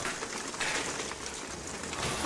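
Rain falls in a steady, dense hiss of drops, continuous and fairly loud throughout with no voices.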